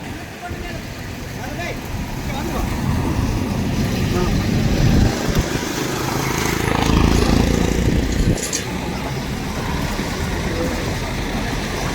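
Engines of a tipper truck and a JCB idle and rumble at a road accident site on the A9, with mixed traffic-like engine noise throughout. Voices can be heard beneath the machinery.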